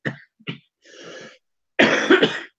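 Several short coughs, then a longer raspy throat-clearing cough from a seasonal tickly cough, close and fairly loud with brief silences between them.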